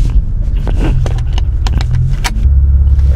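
An Infiniti Q50 accelerating normally on the road, with a steady low engine and road rumble filling the cabin and a few brief clicks and rattles over it, no talk.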